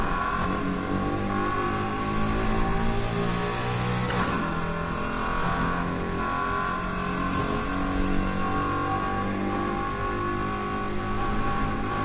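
A car in the racing video game Need for Speed Heat holds a steady, sustained engine drone with layered harmonic tones, and it rises slightly in pitch at moments, with no speech over it.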